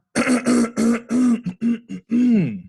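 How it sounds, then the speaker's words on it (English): A person clears their throat with a series of voiced, gravelly rasps in quick succession, close to the microphone. "Clear my throat."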